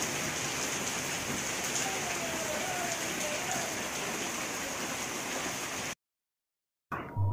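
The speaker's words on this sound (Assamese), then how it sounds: "এয়া চাওক কি বৰষুণ দিছে" Heavy rain mixed with hail pours down in a steady, close, broadband hiss of drops striking surfaces, then cuts off abruptly near the end before a short return.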